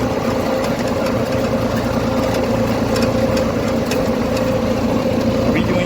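A tractor engine idles close by with a steady, even low rumble and chugging that never changes pace.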